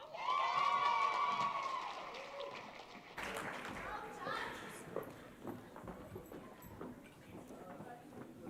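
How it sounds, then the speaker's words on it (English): Sustained applause from an awards ceremony audience, loud at first and then easing into a softer, scattered patter that carries on steadily. "let's give them one more round of applause"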